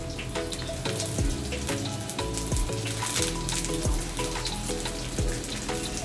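Thinly cut cabbage frying in a pan for egg chowmein, a loud, close sizzle with dense crackling, alongside a steady tonal melody with plucked notes, and no voices.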